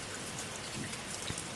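Heavy rain pours in a dense, steady hiss with scattered drop patter, filling a brief stretch evenly and with no voices.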